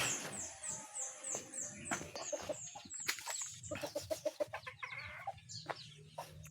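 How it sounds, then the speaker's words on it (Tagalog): Chickens cluck and squawk close by in a busy farmyard, with a rooster-like call early on and quick bursts of clucking later. "Silipin muna natin ating mga alagang manok."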